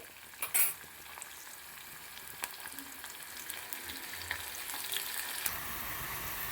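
Chopped onion and green chilies fry in hot oil, giving a steady close sizzle broken by a few sharp pops and stirring clatters. No one speaks.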